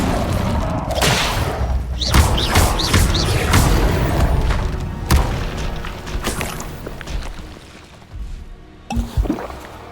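A fire spell bursts out during Hogwarts Legacy gameplay, a dense roaring whoosh with sharp booming hits and crackling tails, loud and continuous through the first half before thinning into scattered effects and a final flare near the end.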